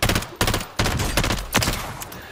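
Bursts of FR 5.56 rifle fire in the Warzone video game, four sharp volleys of rapid shots separated by short pauses, loud and close with no talking.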